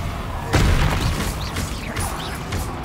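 A Confringo blasting spell goes off in the Hogwarts Legacy video game: a sudden booming burst with crackling debris, followed by whooshing spell effects and clatter, loud and close.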